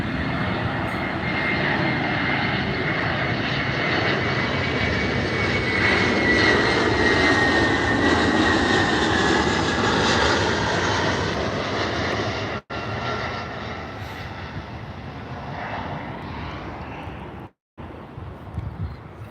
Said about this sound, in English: it looks like we got an Air Canada Airbus A321